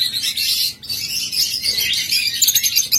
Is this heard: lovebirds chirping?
yes